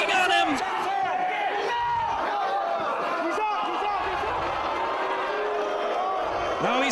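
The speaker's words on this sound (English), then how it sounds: "the crowd voicing their displeasure" A wrestling crowd at a Ring of Honor world title match voices loud displeasure, a sustained roar of booing and shouting that fills the arena continuously, with scattered yells rising above the mass of voices.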